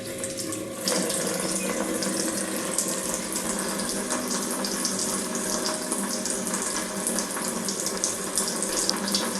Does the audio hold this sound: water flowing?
yes